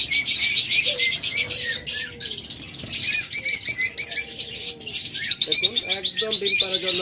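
Caged lovebirds and budgerigars at a pet bird stall chirping and twittering nearby, a dense, continuous chatter of high tweets with a few lower cooing notes mixed in.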